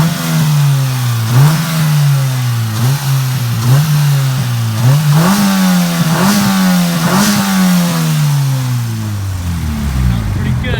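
A 2000 Honda Civic Si with a B20 VTEC engine and a simple intake setup revs again and again, about ten times in a row. Each rev climbs and drops, loud and close, with some voices under the engine.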